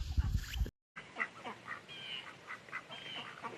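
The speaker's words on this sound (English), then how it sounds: "Oh, there's the ducks." Ducks quack in a scatter of short calls at a farm in the morning, faint and somewhat distant, repeating irregularly over low background noise.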